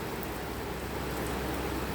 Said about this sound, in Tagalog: Kalakas yung ulan.